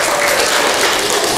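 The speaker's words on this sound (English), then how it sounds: "he's clapping for the Lord, not for himself" A young boy claps his hands rapidly and continuously, a dense, close, loud patter of slaps with no voices.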